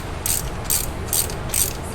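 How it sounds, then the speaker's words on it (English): A ratchet wrench backs a bolt out on a Jeep Comanche during an LS swap, clicking in four quick bursts of bright, close metallic ratcheting separated by short pauses, with no voices. "just running the ratchet"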